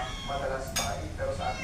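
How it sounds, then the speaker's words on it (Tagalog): Several cats meow at a lunchtime feeding where rice is being handed out, short mews rising over a busy background with people talking nearby. "Nakikita niyo yung mga pusa namin."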